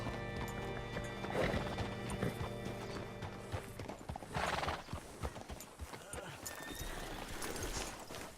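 Horse hooves clip-clop in Red Dead Redemption 2, with a whinny partway through, set against steady in-game ambience and music; footfalls sound close and repeat irregularly.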